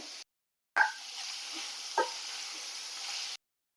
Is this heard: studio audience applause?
no